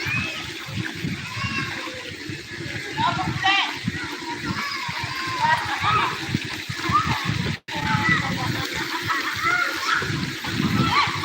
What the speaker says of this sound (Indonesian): Dan di sini ada lagi kolam renang guys yang lebih dalam